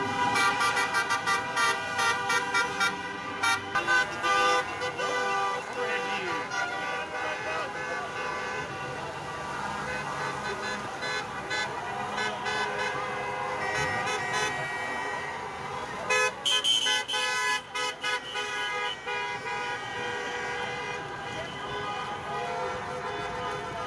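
Car horns honk repeatedly at a freedom rally in Edmonton, Alberta: loud, close toots and longer blasts come in bursts over steady traffic and engine noise, with people talking throughout.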